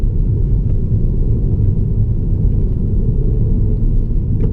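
A 2016 Peugeot 308 GTI engine pulls uphill in third gear, a steady low rumble holding at an even, loud level throughout with no talk over it.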